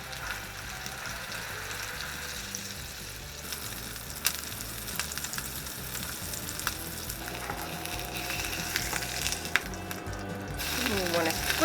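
Onions being pressed into a vegan burger patty on a hot surface, a steady dense sizzle and crackle of frying throughout, close and fairly loud, growing a little stronger toward the end.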